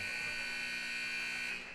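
An end-of-game buzzer at a high school girls' basketball game sounds as a loud, steady electronic tone held for almost two seconds before fading slightly at the end.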